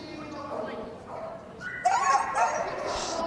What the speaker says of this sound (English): 7-year-old Border Collie.